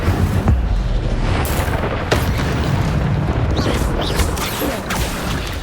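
Incendio fire spell cast in a Hogwarts video game, a loud dense rumbling blast of flame and booming bursts that fills the whole stretch, with a few sharper pops and crackles in the mix.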